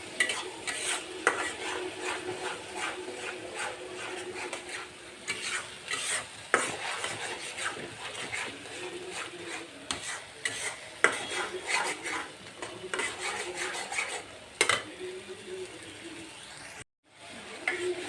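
Mustard paste being stir-fried with spices in a pan, rhythmic spatula scrapes and clinks over a soft sizzle, with a bird calling faintly in the background and a short gap near the end.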